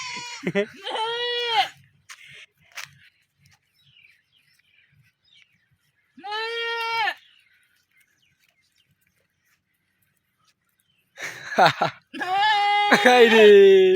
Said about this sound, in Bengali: ছাগলের ডাক